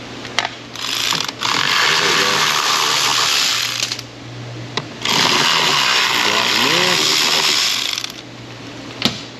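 Socket wrench ratcheting on GMT800 Silverado/Yukon/Escalade HVAC evaporator parts, two long bursts of dense rapid clicking separated by pauses and sharp knocks, with a voice talking faintly between them.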